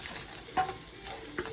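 Bacon and potatoes fry in a cast iron pan over medium heat, giving a steady, close sizzle with a couple of soft stirring scrapes.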